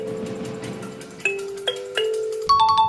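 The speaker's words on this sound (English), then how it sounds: "Kalimba." Plucked kalimba tines ring out in a short tune, soft metallic notes with lingering decay, a quick cluster of higher plinks at the end.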